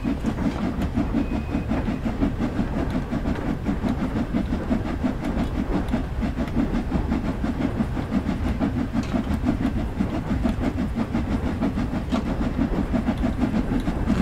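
A steam locomotive in Train Sim World 2 labouring up a steep 1-in-90 grade on the Liverpool–Crewe line, a dense continuous rumble with rapid rhythmic chuffing beats, steady and loud throughout.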